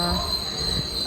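Train running on rails, a steady loud rumble with a sustained high wheel squeal.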